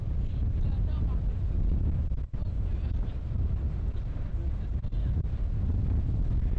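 Steady, heavy rumble of a motorboat moving over water in Greenland, with strong wind buffeting the microphone throughout and no clear pauses.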